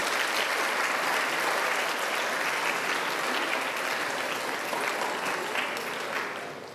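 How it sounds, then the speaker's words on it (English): Students and staff at a senior school assembly applaud an award winner with a thick, continuous wash of clapping that holds steady for about six seconds, then starts to thin and fade. "we can give him a big number of applause"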